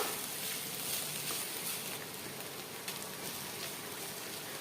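Potato fry with coconut sizzles steadily in a hot pan as it is stirred and mixed, a continuous close frying hiss with faint scraping.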